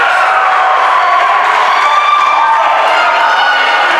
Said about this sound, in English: The crowd lights up, and they're as energetic as a hamster on Red Bull right now.